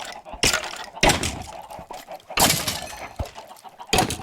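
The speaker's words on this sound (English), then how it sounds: "We have all of the chickens, Ran." Chickens in a video game's underwater base give bursts of clucking and squawking alongside sharp clattering hits, coming in several loud separate clusters with quiet gaps between them.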